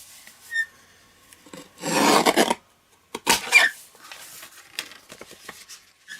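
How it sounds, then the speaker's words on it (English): Scissors cut the flap off a paper envelope in a few close, crisp bursts of papery snipping and rustling, separated by short quiet gaps and lighter handling sounds. "I'm just going to cut this bit off so that will open it up."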